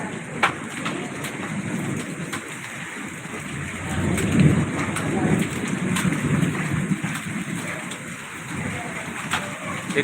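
Heavy rain with hail pours steadily with rolling thunder rumbling low throughout, swelling louder midway; no talking.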